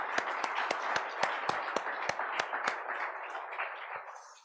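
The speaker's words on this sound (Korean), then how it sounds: "우리 박수 한번 칠까요?" A church congregation at a Korean Presbyterian Sunday service claps together in about a dozen steady, echoing beats that loosen and fade into softer scattered claps near the end.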